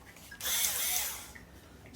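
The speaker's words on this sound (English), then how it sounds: "I have an electric screwdriver drill thing" An electric screwdriver drill, used for assembling a desk with IKEA screws, runs in one short high-pitched whirring burst of about a second, spinning up and winding down against quiet room background.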